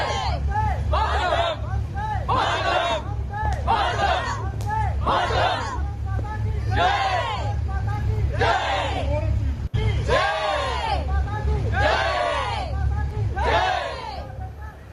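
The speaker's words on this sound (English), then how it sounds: "a loud cheer there by the Indian diaspora" Indian diaspora crowd in Denmark cheering and chanting loudly during Prime Minister Narendra Modi's visit, with rhythmic waves of massed voices rising and falling steadily throughout.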